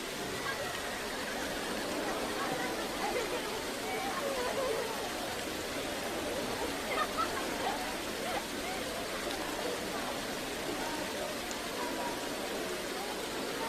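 Steady rain pours down as a broad, even hiss throughout a film scene, with a faint murmur of voices underneath.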